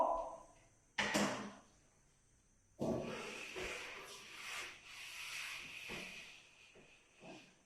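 Writing is rubbed off a board for a bar graph lesson, heard as a few loud, close scrubbing strokes in separate bursts, with softer rubbing and light knocks between them.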